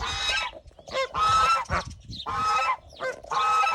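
Domestic goose on a poultry farm, the mother goose Lucienne, giving four loud, close honking calls in a steady sequence with short gaps, no talk over them.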